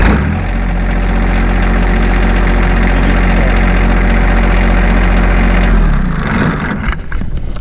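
A warmed-up John Deere 2025R compact tractor's diesel engine catches and settles into a loud, steady, close rumbling idle, then the drone drops away near the end.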